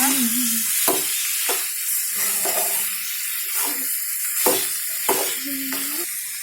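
Chopped onions sizzle and fry in a pan for a Bangalore brinjal curry, a steady close hiss broken by several sharp stirring scrapes and clatters, with no voices.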